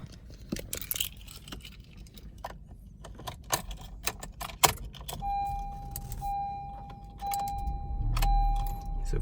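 Keys jangle and click inside a Honda CR-Z 1.5L IMA hybrid car, followed by a quiet start-up with a steady electronic chime tone and faint interior clicks, no loud engine roar.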